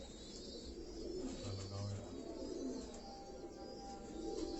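Pigeons coo on a rooftop in Karachi, soft repeated low throaty calls close by over a steady background hum, with a few lighter chirps mixed in.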